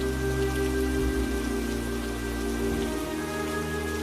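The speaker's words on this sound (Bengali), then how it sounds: "হঠাৎ তো বৃষ্টি শুরু হয়ে গেল" Rain falls in a cartoon village scene, a dense, even hiss of drops on surfaces with no talking, steady and close, over low sustained background tones.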